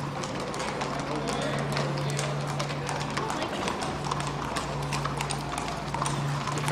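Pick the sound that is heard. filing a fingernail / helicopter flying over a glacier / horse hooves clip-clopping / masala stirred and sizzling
horse hooves clip-clopping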